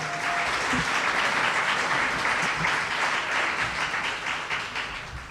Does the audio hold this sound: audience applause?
yes